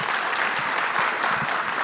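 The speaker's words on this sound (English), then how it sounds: "Can we give him a round of applause?" Loud, dense clapping from a conference audience after a FinOps talk, a continuous close wash of applause with no voices over it.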